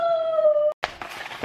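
A dog gives a single steady howl that cuts off abruptly, followed by a short burst of rustling noise.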